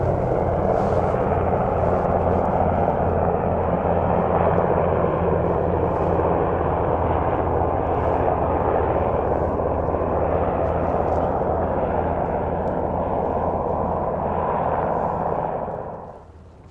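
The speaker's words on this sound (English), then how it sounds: "there's a helicopter coming in to land," A helicopter coming in to land near an airport produces a loud, steady rotor and engine roar that holds for about fifteen seconds before fading away at the end.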